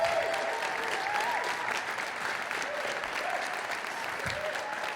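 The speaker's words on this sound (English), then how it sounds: "I want everybody here to give a very courageous applause to Shelly Johnson" Sustained audience applause at a conference, a dense wash of clapping hands at steady volume throughout, with faint voices mixed in.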